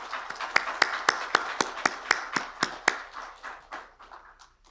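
Sparse clapping at a Korean strategy conference as a speaker is welcomed: about a dozen sharp claps at a steady rhythm, thinning and fading toward the end.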